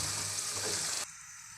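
Minced beef keema frying in oil in a pan, a loud, dense, steady sizzle close by that suddenly drops to a quieter hiss near the end.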